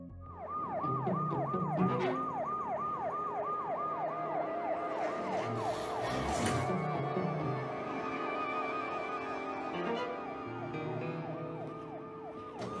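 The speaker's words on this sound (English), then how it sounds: "He runs off once hearing police sirens" A police siren wails, cycling up and down repeatedly, loud and nearby, over low traffic rumble, with a second siren tone joining midway.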